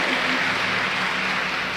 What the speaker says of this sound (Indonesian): Berikan tepuk tangan yang meriah untuk Habib Hussein Jafar Al-Hadar.